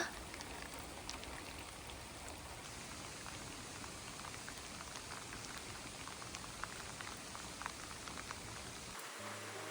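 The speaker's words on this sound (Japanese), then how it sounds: "雨もいつの間にか本格的に強くなってしまいました。" Heavy rain falls steadily, a dense, even hiss of drops drumming on a surface, as heard from inside a car parked overnight. It continues unbroken until it cuts off at the very end.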